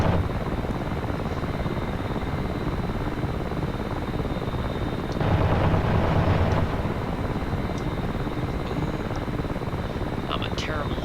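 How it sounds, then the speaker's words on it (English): A helicopter flies in a WWI-themed modded video game, its rotor and engine giving a steady broadband drone that swells louder for a moment midway before settling back. "I'm a terrible helicopter pilot."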